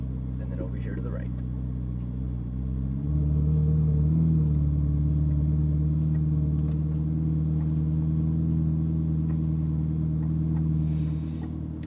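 A sports car at Speed Vegas idles and then pulls forward at low speed, its engine giving a steady, deep rumble that swells slightly as it moves off, with the drone holding close and even throughout.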